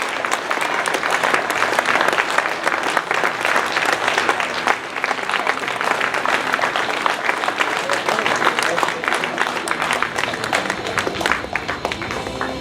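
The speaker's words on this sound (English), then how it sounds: "Let's give them another big round of applause." A theater crowd at the Historic Admiral Theater's Legends of the Road event gives a long, loud, sustained ovation. The dense clapping runs without a break, with crowd voices underneath.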